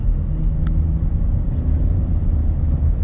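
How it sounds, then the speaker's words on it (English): A 2017 Chevrolet Traverse LT with a transmission that is not shifting right drives along, heard from inside as a steady, loud low engine and road rumble with no voices. "it's definitely not shifting right"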